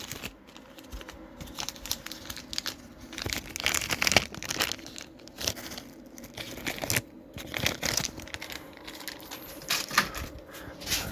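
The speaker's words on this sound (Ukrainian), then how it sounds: "Ці запобіжники на 25 кидаємо в пакет." Small 25 A fuses rattling and clinking as they are dropped into a crinkling plastic bag, a busy run of close, irregular rustles and light clicks with no talking.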